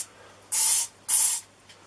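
An aerosol can sprays purple paint onto a thistle in two sharp bursts of hissing spray, each about a third of a second long, separated by a short pause, with a faint third puff at the end.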